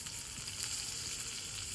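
Whole spices for tempering sizzle steadily in hot oil for a vegetarian pointed gourd and potato korma, a dense, continuous frying hiss close to the pan with no talking.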